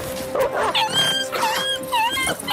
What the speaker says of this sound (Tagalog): umiyak ito matapos makagat sa liig at braso ng salbahing malaking aso